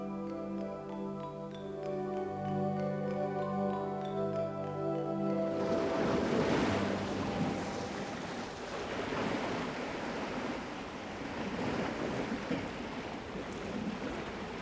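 Waves lap and wash along a seashore where algae gather sand, a broad continuous surge of water and wind rising after a short stretch of tonal music at the start.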